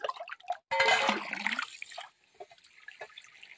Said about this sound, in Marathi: हे बघा, पाणी वाहत आहे. कंटिन्यू पाणी वाहत आहे.